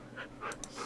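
Tamed wolf dogs in Minecraft Beta 1.4 pant in short, quick breathy bursts, fairly close and moderately loud, with no talking over them.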